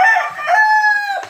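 A rooster crows loudly and close by, one drawn-out call that rises and holds before trailing off.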